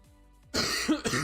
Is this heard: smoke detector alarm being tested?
no